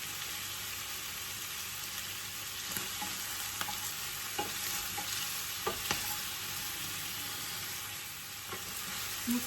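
Chicken pieces being stirred in a pan with black peppercorn and salt, a steady soft sizzle with scattered scraping clicks of the utensil throughout, fairly quiet and close.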